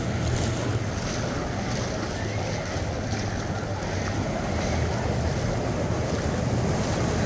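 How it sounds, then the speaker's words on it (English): Artificial waves surge and wash through the wave pool at Typhoon Lagoon water park, a continuous roaring rush of water under heavy wind buffeting on the microphone, with no talking. "Oh, and here comes one of the waves."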